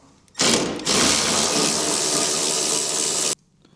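A power tool spins out a screw beneath the bumper of a Lexus IS250: a brief blip, then about two and a half seconds of loud, steady whirring that stops abruptly.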